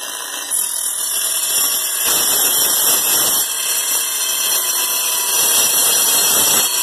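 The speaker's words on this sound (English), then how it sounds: "And I'll just use my saw set to a low depth." Power saw set to a low depth cutting metal tubing, a loud continuous high-pitched whine and buzz that holds steady throughout at close range, with no speech.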